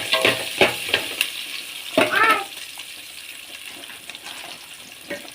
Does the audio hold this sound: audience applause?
no